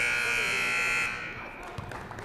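An end-of-quarter buzzer sounds at a high school boys basketball game, a loud steady electronic drone lasting about a second before cutting off, followed by gym crowd noise and a few voices.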